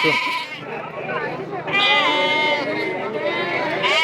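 Lambs bleat repeatedly, close and loud, in the busy Kerur sheep market, their wavering cries overlapping with someone talking nearby.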